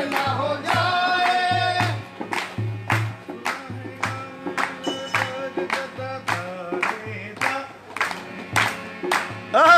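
Steady rhythmic hand clapping keeps time during taali kirtan devotional singing at Sai Darshan Mandir in Malad, with sharp, regular claps alongside a singing voice and harmonium-like music.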